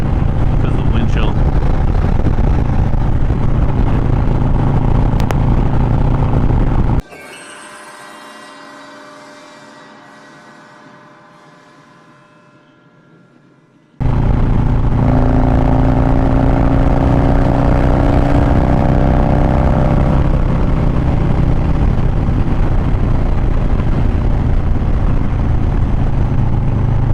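Riding a motorcycle on a cold Sunday ride, with a loud, steady engine drone and roaring wind that suddenly drops to a near-silent gap for several seconds before the rush returns at full volume.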